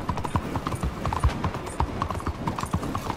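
Horse hooves clatter in a quick, steady galloping rhythm in the Red Dead Redemption 2 video game, close and loud with no talk over them.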